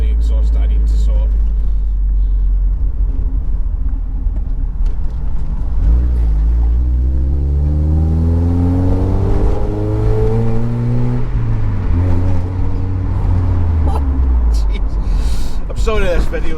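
A car engine fitted with a new Cobalt exhaust revs up and down, its deep droning note rising and falling loudly and close, with the exhaust burbling as the throttle lifts off.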